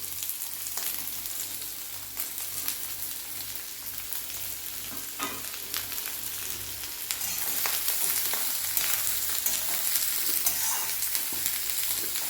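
Chopped onion, carrot, cabbage and capsicum fry in a pan over a high flame for Schezwan rice, a continuous close sizzle with occasional stirring scrapes that grows slightly louder toward the end.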